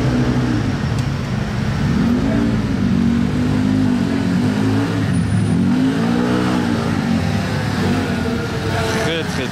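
A turquoise Porsche GT3 RS engine runs at close range, its mid-pitched drone rising and falling steadily throughout, with some background noise and speech-like content mixed in.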